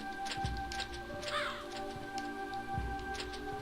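Birds caw repeatedly in Castlevania: Symphony of the Night, harsh crow-like calls over a droning game soundtrack with steady tones and occasional thuds.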